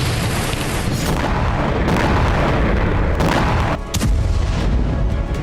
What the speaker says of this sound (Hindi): तो कहीं बैक टू बैक धमाके पूरे इलाके को दहला रहे हैं।